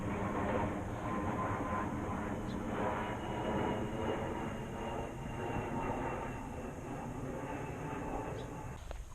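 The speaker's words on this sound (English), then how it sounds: "Well, we got another plane coming in." An Alaska Airlines airliner passes overhead along an outdoor trail corridor, a broad continuous engine roar that holds steady and slowly fades, with no talk over it.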